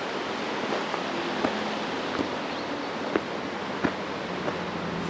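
River flowing beside a campsite in Manning Park, a steady broadband rush of water holding constant throughout, with a few faint ticks and rustles on top and no voices.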